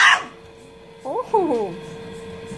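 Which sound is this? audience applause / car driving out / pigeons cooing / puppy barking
puppy barking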